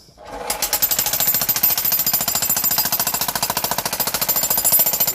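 A jackhammer pounds concrete on a residential renovation site, starting after a brief pause and then hammering in a loud, steady rapid rhythm close by, without letting up.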